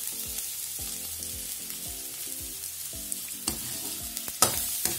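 Garlic sautéing in a pan for Filipino stir-fried pechay gives a steady close sizzle with soft stirring scrapes; a low repeating tonal hum runs underneath, and a few sharper clicks of utensil on pan stand out near the end.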